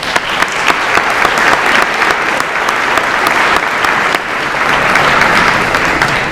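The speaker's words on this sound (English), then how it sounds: "Let's give them a round of applause." An audience at a ChildServ charity evening gives a steady, dense round of applause, loud and sustained for several seconds with little else audible.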